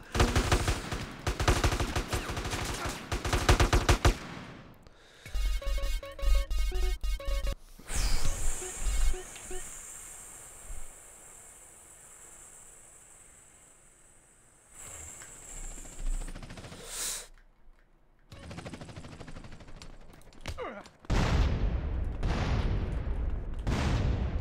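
Rapid bursts of video game machine-gun fire and gunshots come in loud stretches, broken by gaps, a sustained high whine and booming impacts, with heavy firing returning near the end.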